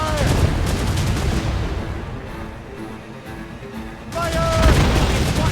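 Ship cannons boom and crackle in a naval battle in Assassin's Creed Rogue, dense gunfire loud at the start and again near the end, with shouting voices mixed into the clamor.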